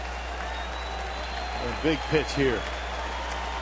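Sellout baseball crowd at a Phillies at Milwaukee game roars in a steady wash of cheering and applause throughout, with a commentator speaking briefly over it.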